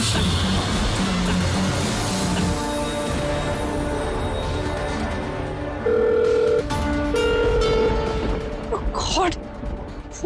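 A telephone rings on and on without being answered during a tense Hindi TV drama scene, its electronic tones sounding under loud dramatic background music.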